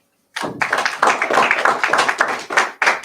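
Congregation at a Sabbath service clapping, a dense, loud burst of many hands that starts abruptly and carries on steadily for about three seconds, close and without any voices.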